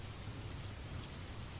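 Steady, soft rainfall with an even hiss and no breaks, gentle and continuous throughout with no voices.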